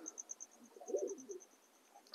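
In a pigeon loft in the morning, with satinette and American fantail pigeons, a single faint, low coo rises briefly amid quiet surroundings, while a thin, repeated high chirp pulses in the background.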